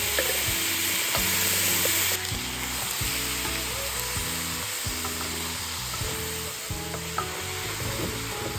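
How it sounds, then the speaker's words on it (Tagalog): Pressure-cooked pork ribs sizzling in a pan, a steady loud frying hiss with rhythmic knocks and scrapes of a utensil stirring them, close up and without talk. "Pagkaluto, diretso natin sa kawali. Stir natin para magkaroon ng konting toasty finish."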